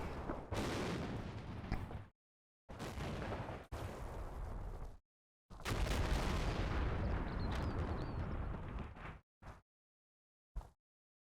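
Gunfire and heavy weapon blasts in the Normandy wargame Combat Mission: Battle for Normandy, with long, dense stretches of rumbling, crackling fire that cut off abruptly, then a couple of brief isolated bursts.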